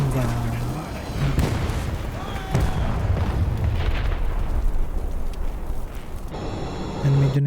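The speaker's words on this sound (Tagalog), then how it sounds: "naispatan tayo ng aircraft. At binigyan tayo ng isang magandang bomba" A bomb dropped by an aircraft explodes in the War Thunder video game: heavy booming blasts and rumbling bursts, loud and close, rolling over several seconds with a player's voice talking over parts of it.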